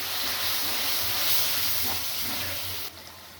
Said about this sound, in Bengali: এবার আমি সামান্য জল দিয়ে এটাকে খুব ভালো করে কষবো